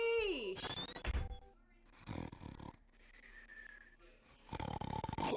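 Loud, wheezing snores ring out in the Muppet Treasure Island video game, several drawn-out rasping breaths with quieter pauses between them and a few tonal whistles mixed in.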